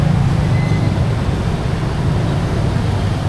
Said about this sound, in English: Walking among the motorbikes.